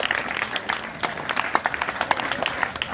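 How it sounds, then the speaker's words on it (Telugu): An audience claps for prize donors at a Rotary Club cash prize event, with steady, moderately loud applause running throughout, individual hand claps poking through a dense crowd wash. "ఆయనకి ధన్యవాదాలు తెలియజేసి ఒకసారి చప్పట్లు కొట్టండి."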